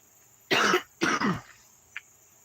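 Two harsh, close coughs in quick succession, followed by a brief faint throat sound, with quiet background otherwise.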